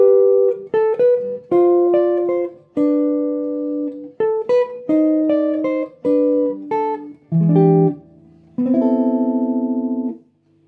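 A jazz guitar plays a coda, clean sustained chords and single notes moving in a slow, deliberate phrase, close and clear, closing on a held chord.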